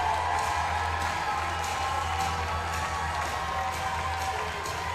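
An arena crowd at an indoor soccer shootout between the Tacoma Stars and the Empire Strykers keeps up a steady roar of cheering and clapping, dense and continuous, with rhythmic pulses running through it.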